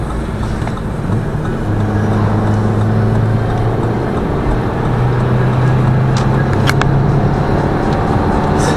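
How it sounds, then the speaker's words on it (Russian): A Lada Vesta Cross with a 1.8 engine strains under a load of five passengers, its steady droning hum and road rumble filling the cabin, with a low tone rising and holding as it pulls. "Вот я этот движок чувствую, что пятером едем, он упирается, ему тяжело."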